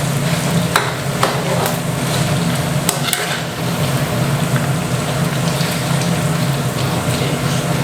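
Sliced pork belly fries in plenty of oil with garlic and pepper, giving a loud, close, continuous sizzle with crackles and spatters and a few sharp clinks from stirring.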